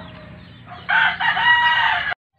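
A rooster crows once, loud and close, a drawn-out call lasting over a second before cutting off abruptly.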